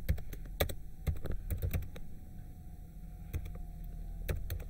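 Typing on a computer keyboard while building a script template on Linux: quick irregular key taps and clicks in short bursts over a steady low hum, close and fairly quiet.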